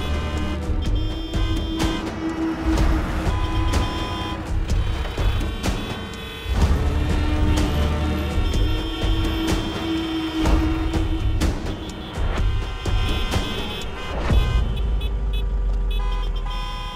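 Road traffic stuck in a jam rumbles on continuously with car engines. Short horn toots break through now and then across the scene.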